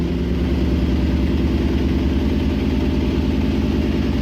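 The engine of a 1967 Jeep Gladiator, long dormant, running at a steady idle with a loud, even, low rumbling pulse throughout and no talking.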